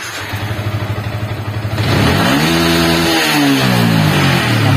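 A motorcycle with a fault that makes it stutter and stall is cranked with a rhythmic chugging starter, then catches and rises into a loud, steady revving idle close by.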